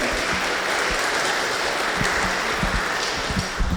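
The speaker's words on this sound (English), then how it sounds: "Please give them a round of applause." An audience at an urbanism conference gives a brief burst of dense, steady applause, heard close and loud with a few sharper individual claps standing out.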